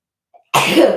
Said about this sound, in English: Like I convulse with my sneezes.